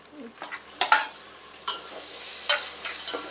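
Tomatoes tipped into a hot pan of frying chicken biryani base with ginger paste, setting off a steady close sizzle with a few sharp stirring and scraping clatters against the pan, no talk.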